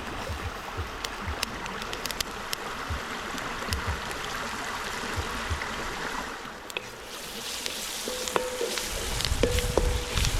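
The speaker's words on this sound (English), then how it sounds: "Saute them a little bit" Vegetables and thyme sautéed in a pot over an outdoor fire on a riverbank: a steady crackling sizzle runs throughout, mixed with a wash of moving water and small clinks, with no talk.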